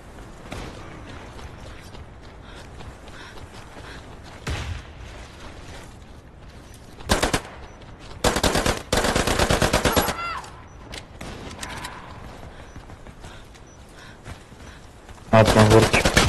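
Machine gun firing in the online shooter Warface, several loud sustained bursts of rapid fire with gaps between, over quieter game noise, clicks and mechanical handling sounds, with talk at times.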